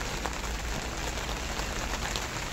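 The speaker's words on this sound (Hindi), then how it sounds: "फिर से बारिश शुरू हो गई है सुबह सुबह।" Steady morning rain falls without pause, a dense, even hiss of drops striking surfaces close by, with no voices over it.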